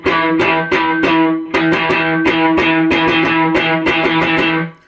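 Choppy electric guitar riff with muted, percussive strums in a steady rhythm, distorted and fairly loud, some notes ringing between the palm-muted chops.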